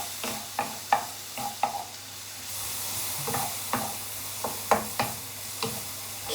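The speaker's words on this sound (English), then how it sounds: "those onions and mushrooms have been frying nicely in the pan" Close-up clattering of a utensil stirring frying onions and mushrooms in a pan, with sharp scrapes and taps over a low background hum; no talking.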